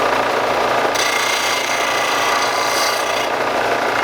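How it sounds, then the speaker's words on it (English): Disc sander smoothing the cut edge of a PVC pipe, a loud continuous rasping grind over the motor's hum, growing brighter and harsher while the pipe presses against the disc. "so we're going to touch it up over here on the disc sander"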